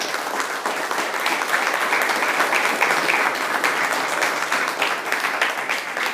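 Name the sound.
audience applause in church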